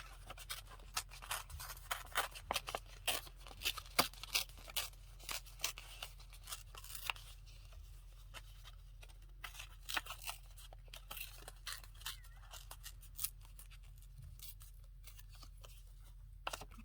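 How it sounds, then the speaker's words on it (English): Paper torn by hand for a junk journal, a series of quick, faint ripping and crinkling bursts in an irregular rhythm, close up against a quiet background hum. "Just going to tear this quickly."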